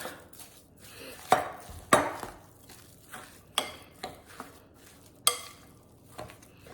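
A spoon stirs a stuffed pepper filling seasoned with onion soup mix in a bowl, making soft wet mixing sounds punctuated by several sharp scraping knocks against the side, close up with no talking.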